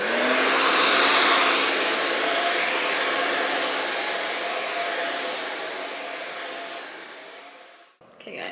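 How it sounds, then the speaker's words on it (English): A handheld hair blow dryer runs steadily close by with a loud, constant whirring roar for about eight seconds, easing slightly before cutting off near the end. "currently just trying to blow dry my hair"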